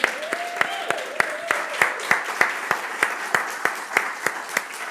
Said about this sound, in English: Can we have one more round for Laura Weber?